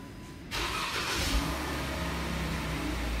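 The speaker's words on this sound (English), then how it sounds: "My favorite feature on this car is the remote start." Engine of a 2012 Jeep Grand Cherokee Overland fires up via remote start, a sudden loud catch followed by a brief rev and then a steady, close idle.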